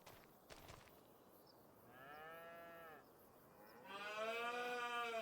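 Cattle in Farming Simulator 25 lowing twice, two drawn-out moos of about a second each, the second louder and closer, over a quiet farm background with a brief clatter at the start.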